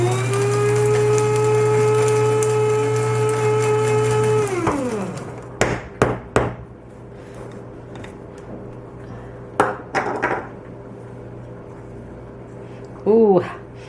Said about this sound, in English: I'm going to grind it a bit more.